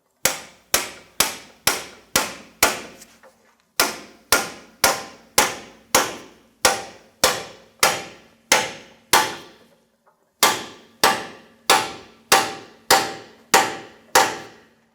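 A hammer strikes a pickle fork wedged into a Jeep Compass ball joint, sharp metallic blows in quick bursts of five or six with short pauses between, loud and close.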